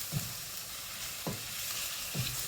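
Thinly sliced chicken stir-frying in a hot pan, its continuous loud sizzle broken by three evenly spaced scraping strokes of a utensil moving the meat, with no talking.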